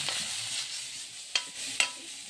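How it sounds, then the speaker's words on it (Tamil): Ginger garlic paste sautés in a hot pan with a steady soft sizzle. A utensil scrapes and stirs it twice with short sharp clinks. "வந்து கொஞ்சமா இஞ்சி பூண்டு பேஸ்ட் நல்லா பச்சை வாசம் வரைக்கும் வதக்கலாம்"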